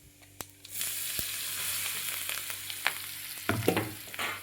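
Ground green chili and peanut paste dropped into hot oil with cumin and turmeric, a sharp burst of sizzling that holds loud and close, with a few stirring knocks near the end.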